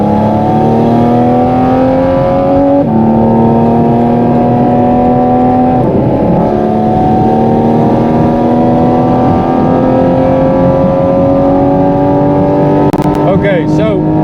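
Porsche 718 GT4 RS Weissach engine pulling hard on the Autobahn, its loud, rising wail climbing through gears with brief dips at each shift, close and continuous over road noise.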